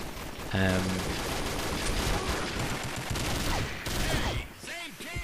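MG42 machine gun in a video game firing long, rapid sustained bursts, loud and close, with speech-like tonal sounds near the start and a brief lull late in the clip.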